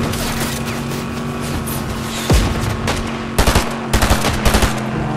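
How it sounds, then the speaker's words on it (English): Bursts of rapid automatic gunfire in Fortnite crackle over a steady game background hum, with a single louder shot followed by several quick clustered volleys toward the end. "They're shooting from Blue Island."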